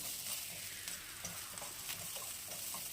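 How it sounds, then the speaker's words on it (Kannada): Chopped green chillies, garlic and curry leaves fry slowly on a low flame for a lady's finger palya, making a soft, even hiss with small crackles throughout, quiet and unbroken by speech. "ಈಗ ಹೆಚ್ಚಿಟ್ಕೊಂಡಿರೋ ಹಸಿಮೆಣಸಿನ್ಕಾಯಿ ಬೆಳ್ಳುಳ್ಳಿ ಕರಿಬೇವು ಎಲ್ಲ ಹಾಕಿ ಲೋ ಫ್ಲೇಮಲ್ಲೇ ಕೆಂಪಾಗೋವರೆಗೂ ಸಣ್ಣದಾಗಿ ಸಣ್ಣ ಉರಿಲೇ ಉರ್ಕೋತಾ ಇದ್ದೀನಿ"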